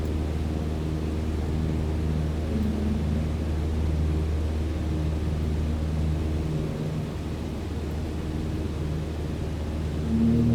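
Steady, continuous airplane engine drone in Microsoft Flight Simulator, an even tonal hum held throughout with no speech.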